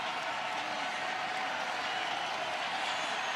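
A crowd of about 15,000 roars at the Hawaii Bowl college football game between Hawaii and Cal, a dense, steady wash of cheering that holds evenly throughout.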